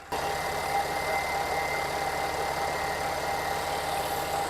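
An Audi S4 B8 car engine idles steadily at close range, a constant low rumble with a faint mechanical hum that stays even throughout.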